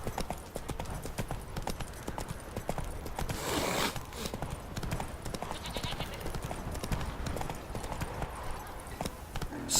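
Roach the horse's hooves clip-clopping in The Witcher 3, a steady, dense run of hoof strikes at close range throughout, with a voice speaking briefly over them.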